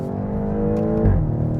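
A BMW X6M's 4.4-litre twin-turbo V8 pulls hard, its harmonic engine tone rising steadily, then drops in pitch with a thump as a gear shift comes through, heard close from the cabin.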